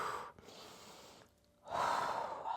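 Breathing during a Pilates hamstring stretch, a close, audible inhale followed by a pause and then a strong, airy exhale.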